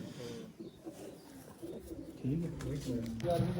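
Pigeons in Machhike village, Punjab, coo softly and repeatedly at close range while people talk nearby.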